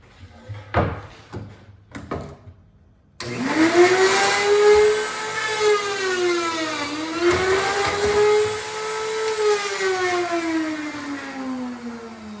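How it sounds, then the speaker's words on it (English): A Castle pocket hole machine in a cabinet-making wood shop, with a few sharp clunks before its motor spins up into a loud, steady whine that dips and rises in pitch as it drills pocket holes. "So this is what this machine does. It does the pocket holes that we use."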